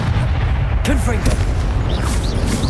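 A Confringo blasting spell in Hogwarts Legacy bursts out amid busy combat, with sharp booms and crackling impacts over a steady din of battle effects and a voice shouting spell names.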